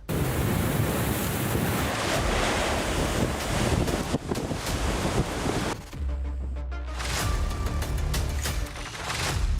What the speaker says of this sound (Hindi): लहरों के शोर से सहमे राज्य।